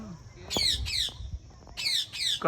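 Pet parrots squawk in two pairs of sharp, raspy bursts, close and loud, separated by a brief lull with faint background noise.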